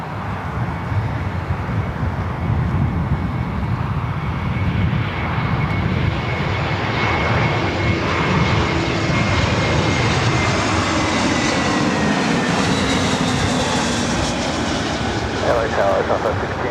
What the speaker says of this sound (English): American Airlines Flight 407 coming in from Charlotte at the A321.